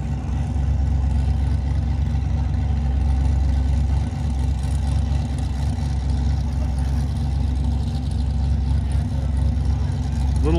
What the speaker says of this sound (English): Single turbo LS Camaro.